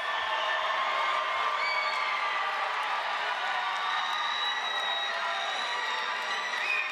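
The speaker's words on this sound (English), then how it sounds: "give them a big round of applause, tell them that you love them" A large crowd at a university business school fall commencement cheers, whoops and applauds in a dense, sustained roar that holds at steady loudness from start to finish.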